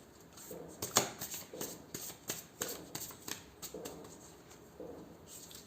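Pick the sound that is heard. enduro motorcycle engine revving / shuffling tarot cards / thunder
shuffling tarot cards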